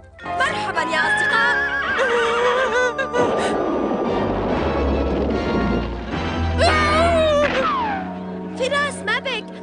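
Several loud, wavering horse neighs and whinnies in a cartoon, repeated across the scene with a clattering, crashing burst in the middle; voices speak around them.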